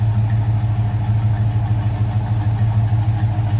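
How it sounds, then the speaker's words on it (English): A 1967 Chevrolet C10 pickup's V8 engine idles steadily nearby, an even, low rumbling pulse with no talk over it. "Nice sounding V8."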